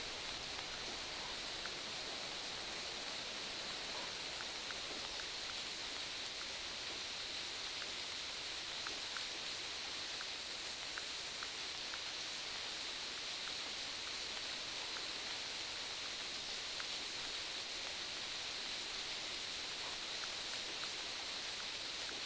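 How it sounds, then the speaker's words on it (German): Rain falls steadily in the hunting game The Hunter Classic on the Timbergold Trails map, an even, hissing wash with no breaks and no voices over it. "Fängt auch blöderweise noch an zu regnen."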